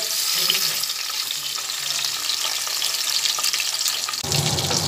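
Boal fish pieces fry in hot oil with a loud, dense, continuous sizzle that holds steady throughout, close and unbroken by talk.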